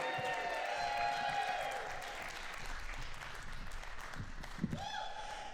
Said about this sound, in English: Start clapping for Casey